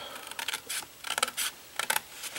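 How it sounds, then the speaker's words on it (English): Scissors snip along a score line in paper or card for a trinket box, a series of short crisp cuts in quick bursts, close and fairly quiet. "You're going to cut up on that score line."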